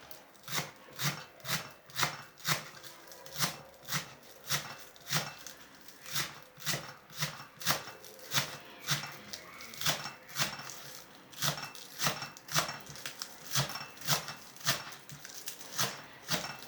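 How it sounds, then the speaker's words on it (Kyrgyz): A knife finely chops green onions and dill on a board in quick, even strokes, a close, steady series of sharp taps that runs throughout. "Эми майда кылып көк пияз менен укропту турап алабыз."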